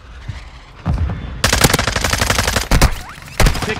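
Bursts of incoming automatic gunfire in Call of Duty, loud and close: a rapid machine-gun stream of shots with several sharper cracks and later single reports.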